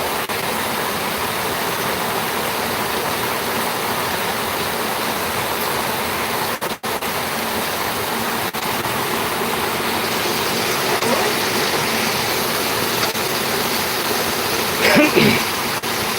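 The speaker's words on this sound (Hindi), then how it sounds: "बारिश हो रही है।" Heavy rain pours down steadily as a continuous, loud broadband wash, with a brief disturbance and some distant voices near the end.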